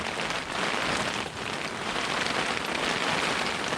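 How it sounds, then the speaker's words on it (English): Heavy rain pours steadily at Selsey Beach, a dense, close hiss of drops hitting surfaces with slight swells in intensity and no voices. "Every time I come to this spot, it pees it down with the rain, man."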